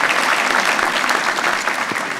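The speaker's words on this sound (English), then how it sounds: "Give Dr. Savory a round of applause." Loud, dense applause from a dinner audience at an award event honoring Ralph Puckett, a continuous close wash of many hands clapping with no speech over it.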